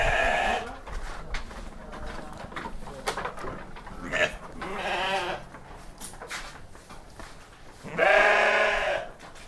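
Goats and sheep bleat on a farm, several calls rising over a steady background of people talking, with the loudest bleat near the end.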